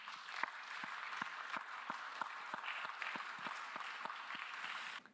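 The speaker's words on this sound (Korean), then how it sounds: "우리 함께 박수로 환영하겠습니다." Clapping from a church congregation welcoming a newcomer at a youth worship service: a soft, even round of applause with a steady rhythmic beat running throughout, then stopping abruptly.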